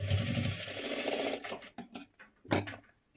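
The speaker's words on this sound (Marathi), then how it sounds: "इथे थोडीशी घडी करून घ्या आणि डबल शिलाई देऊन घ्यायची आहे" A sewing machine runs steadily while double-stitching a fold on a one-piece jacket, its whirring motor loud and close, then breaks into short stop-start bursts of stitching toward the end.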